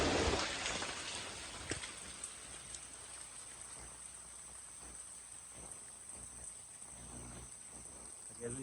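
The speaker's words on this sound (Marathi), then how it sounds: "एकदम मोठा पाऊस येतो, परत शांत होतो." Steady heavy monsoon rain falls on a cloudy, dark day in a Konkan village near Devgad, hissing in a continuous close wash, with a brief sharp knock early and faint voices underneath.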